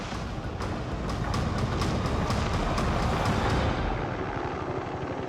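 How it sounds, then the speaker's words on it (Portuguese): A helicopter searching over jungle thunders overhead, a loud steady rotor roar with rhythmic thumping that eases slightly toward the end. "O helicóptero está procurando na selva."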